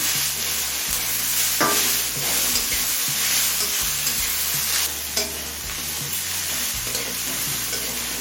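Mixed vegetables and chopped green chillies are stir-fried for chow mein, with a loud continuous close sizzle and repeated scraping and stirring strokes in the pan, and no talking.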